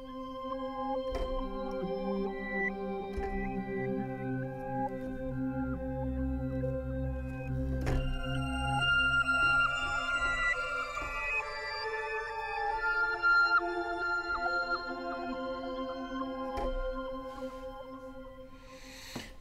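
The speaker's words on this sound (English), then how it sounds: "And here we have our granular zone that comprises this sound." Granular synth preset from Steinberg HALion 6, a sustained evolving drone with layered tonal partials, shimmering swells and occasional clicky transients, playing steadily throughout with no talk.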